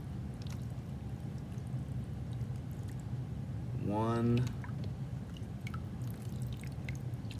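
Water is poured by the cup onto a tabletop flood model, giving one short gurgling pour with a rising, filling tone while a person counts aloud nearby.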